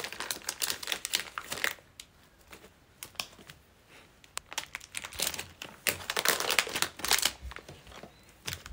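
Rapid, irregular clicking and crinkling of keys being typed on a computer keyboard, close and fairly loud, in dense bursts with brief pauses.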